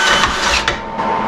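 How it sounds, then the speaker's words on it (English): A tube notcher cuts a 1.5-inch notch into steel tube for a VW Baja Bug build, giving a brief, loud grinding whine with a couple of abrupt bursts, heard up close and alone. "so I can cut notches in tubes"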